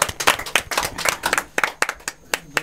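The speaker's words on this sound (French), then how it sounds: "Sous vos applaudissements, s'il vous plaît." Applause at a live tribute concert, heard as a run of close, sharp, fairly sparse hand claps from a small group, uneven in rhythm and with no talking over them.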